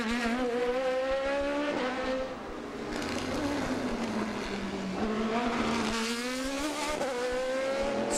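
Sports prototype race cars in the American Le Mans Series scream past on the Long Beach street circuit, engine notes rising and falling through gear changes as several cars pass in succession, loud and close throughout.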